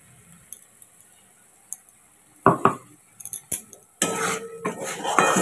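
Cashew poppy seed paste added to a masala in a pan, several sharp metal clinks and scraping stirs against the pan, starting quietly then becoming a louder sustained scrape with sizzle near the end, close, no voices.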